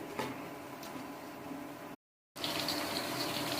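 Potato chips fry in hot oil with a steady, dense sizzle and crackle heard up close. The sizzle cuts out briefly midway, then returns.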